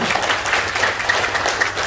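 A crowd applauds, a dense wash of many hands clapping steadily and loudly throughout.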